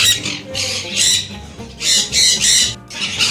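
Inside an aviary, a bird gives a run of loud, harsh squawks close by, about six bursts coming in uneven pairs with short gaps between them.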